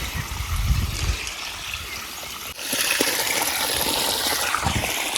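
Steady rushing irrigation water flows continuously into a millet field, a broad wash of noise that grows a little louder partway through, with no voices.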